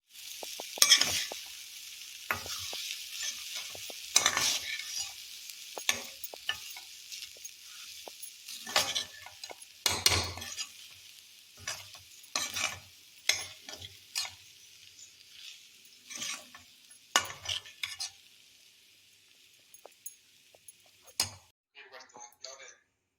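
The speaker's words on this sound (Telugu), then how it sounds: "ఇప్పుడు రైస్ అంతా వేసి మొత్తం అంతా కలిసేట్టుగా బాగా కలుపుకోవాలి" Cooked rice is stirred into mango pulihora in a pan, with scattered scraping and stirring strokes and a faint sizzle, close and intermittent.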